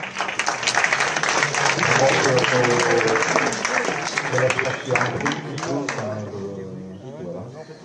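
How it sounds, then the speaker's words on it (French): A crowd applauds at an awards ceremony for the Challenge Plein Gaz Verts, with dense, steady clapping that holds for several seconds, mingled with voices, before thinning out and fading near the end. "je pense qu'on peut les applaudir"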